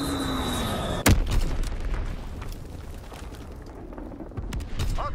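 A Fritz X bomb blows up in a combat video game, one sudden loud blast with a deep boom that cuts off an earlier tone, then a long rumbling tail over steady battle noise, with another crack near the end.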